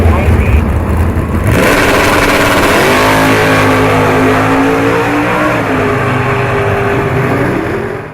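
Propane-powered drag racing car engine roaring loud and close, revving hard and holding a sustained high-pitched drone with rising and falling tones, while a voice talks over it.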